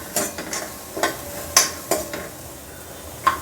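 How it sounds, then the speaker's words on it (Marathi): Chana dal being stirred and sautéed with onions for a drumstick-leaf vegetable dish, with a spoon scraping the pan in several distinct strokes over a soft frying sizzle, fairly close. "चण्याची डाळ थोडीशी अशी मिक्स करून घ्यायची, कांद्याबरोबर जरा परतून घ्यायची."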